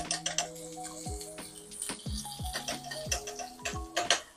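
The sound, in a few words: rinsing garlic and ginger under running tap water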